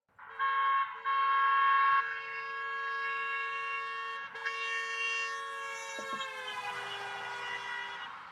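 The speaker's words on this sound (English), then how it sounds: "we'll start with a simple example of a car horn." A car horn sounds continuously as the car drives past, loud and steady at first, then its pitch drops and it fades as the car moves away.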